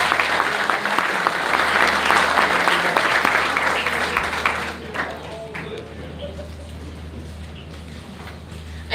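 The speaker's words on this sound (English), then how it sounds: "Let's give Jody another round of applause" A crowd applauds during a live elk tag drawing event, loud dense clapping for the first half that thins and fades into quieter room noise with low hum and scattered sounds toward the end.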